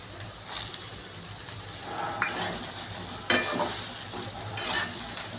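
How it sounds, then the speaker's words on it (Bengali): Vegetables with cauliflower, carrot, potato and green peas fry in oil as a spoon stirs them, a soft steady sizzle broken by several louder scraping strokes against the pan. "আবার একসঙ্গে সবগুলো ভেজে নিচ্ছি।"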